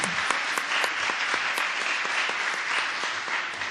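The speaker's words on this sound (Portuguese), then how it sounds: "agradeço os aplausos" Steady applause from an audience at the opening of the Caravana 44 event, dense and continuous clapping throughout without talk.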